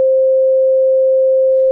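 A continuous 500 Hz sine-wave test tone holds a single clear pitch, loud and constant, from start to finish with nothing else audible.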